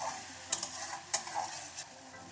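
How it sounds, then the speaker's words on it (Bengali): Turmeric and chili powder stirred in a hot pan for a green peas paneer kofta curry, a soft steady sizzle with a few brief scraping stirs over quiet background. "ভালো করে আমি একটু কষিয়ে নেব"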